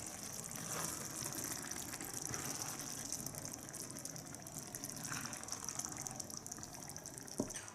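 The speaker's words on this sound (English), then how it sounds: "we put the passata, we put some water. This, look, as you can see, this is almost filled" Water pours steadily into a dish of passata for cannelloni, a soft continuous gushing fill heard close up, with a single small clink near the end.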